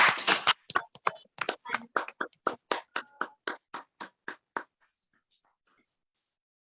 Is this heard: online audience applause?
yes